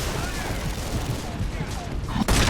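Boomshot weapon fire in Gears of War, a dense continuous wash of loud explosive blasts and gunfire close up, with a sharp heavy boom near the end.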